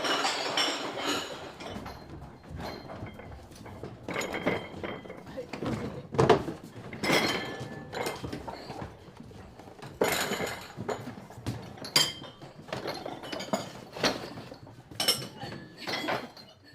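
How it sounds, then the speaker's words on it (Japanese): Tobe ware ceramic dishes clink and ring as they are stacked at a pottery kiln in Japan, a steady series of bright knocks and chimes with occasional faint voices. "You can hear the ringing notes of the ceramic as they stack everything really"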